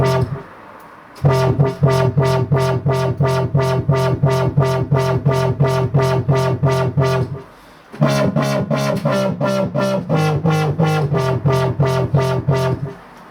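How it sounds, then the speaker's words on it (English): A drum and bass loop run through a crunchy distortion effect: tight, driving hits repeat in a steady fast rhythm, loud and saturated. The loop drops out briefly partway through, then resumes just as dense. "Let's add a bit of distortion here."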